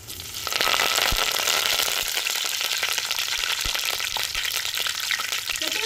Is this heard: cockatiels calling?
no